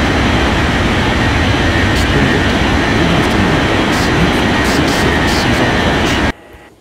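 A jet airliner takes off in an air traffic control game, a loud continuous engine roar that holds steady for about six seconds and then cuts away abruptly to quiet.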